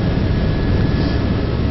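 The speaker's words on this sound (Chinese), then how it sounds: "现在直升机已经飞起来了" A helicopter lifting off from Juneau, Alaska, heard from the front seat as a loud, steady, dense engine and rotor drone with no breaks.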